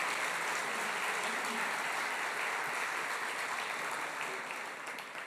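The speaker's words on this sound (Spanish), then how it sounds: "¿Qué tal si repetimos ese aplauso, por favor?" Steady, dense audience applause fills a university academic-year inauguration ceremony hall, sustained throughout and easing slightly toward the end.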